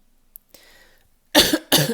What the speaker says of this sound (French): Je tousse, je ne sais pas pourquoi en ce moment je fais que tousser.